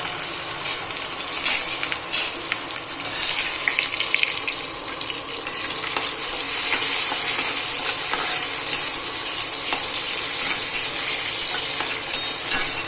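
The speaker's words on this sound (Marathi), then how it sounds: "आता हे कांदा टोमॅटो टाकून घ्यायचा हे ना चांगलं फ्राय होऊन द्यायचं" Onion and tomato fry in hot oil with cumin and mustard seeds in a pan, giving a steady, loud, close sizzle with light stirring scrapes throughout, no voices.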